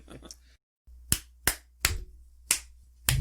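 Single person clapping hands several times at a steady, spaced rhythm, sharp, close claps with short gaps between them, preceded by a brief murmur of voices.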